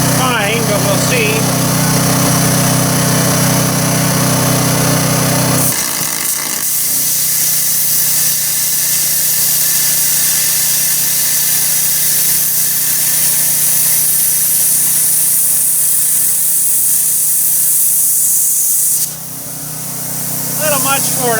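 A cheap plasma cutter bought on Amazon slicing through half-inch metal gives a loud, continuous hissing buzz with a harsh electrical edge that runs unbroken for most of the clip before cutting off near the end.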